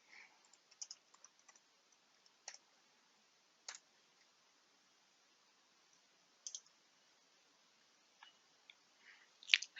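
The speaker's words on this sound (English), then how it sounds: "We'll type Glen Huntly Station." Scattered, sparse keystrokes on a computer keyboard, soft clicks in small bursts separated by pauses, heard up close in an otherwise quiet room.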